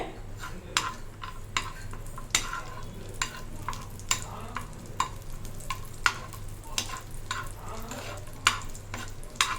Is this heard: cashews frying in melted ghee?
yes